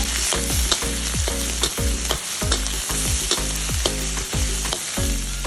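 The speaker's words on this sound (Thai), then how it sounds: "ผัดพริกให้เหลืองนะคะ" Loud, steady sizzling of chilies stir-frying in hot oil in a pan for Thai basil pork, with repeated scraping strokes of a spatula stirring the pan.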